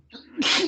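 A man's sneeze lands close and loud: a short indrawn breath, then a sharp, hissy burst, all within under a second.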